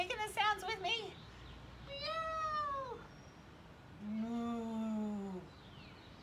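A voice imitating animal calls: a high quick meow, then a drawn-out moo, then another meow-like call, each separated by short pauses.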